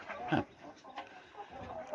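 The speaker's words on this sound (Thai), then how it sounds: "ไก่เรามีอยู่ประมาณ ห้าสิบตัวนะครับ" A flock of about fifty laying hens on a Thai poultry farm clucks steadily nearby, with overlapping calls rising and falling against a constant farmyard hum.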